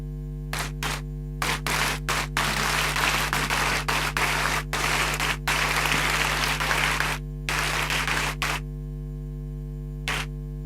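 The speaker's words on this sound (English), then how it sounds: "I want to crave your indulgence for us to stand and just applaud him for such a vision." A graduation ceremony audience stands and claps in loud bursts of dense applause separated by brief pauses, over a steady electrical hum from the hall's sound system.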